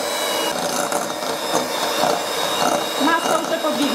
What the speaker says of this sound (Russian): Для крема взбиваю масло сначала, а потом добавлю сгущенное молоко.